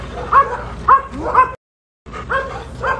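A shepherd dog gives a run of short, yelping barks, three quick ones, then a brief silence and two more, close by and fairly loud.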